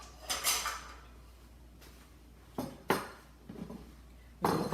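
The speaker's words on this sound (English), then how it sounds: "let me just grab a bowl for that." A bowl is lifted out in a home kitchen while roasted carrots are being prepared, giving a few faint clinks and knocks of dishware, spaced irregularly and fairly close.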